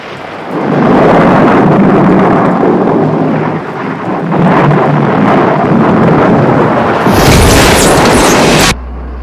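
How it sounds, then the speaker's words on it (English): A violent thunderstorm with lightning strikes, heavy rumbling thunder and rain roaring loud and continuous, swelling into a sharp, bright crash near the end before cutting off. "The reflector is attracting the lightning like a magnet. If the storm doesn't abate, we are in real trouble."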